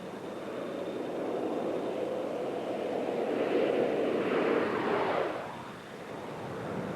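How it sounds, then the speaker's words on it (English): The Space Shuttle STS-86 lands at Kennedy Space Center in 1997, heard as a broad distant rushing roar that swells and then fades as it passes, with wind-like noise throughout. "Pre-flare maneuver being performed. Landing gear coming down."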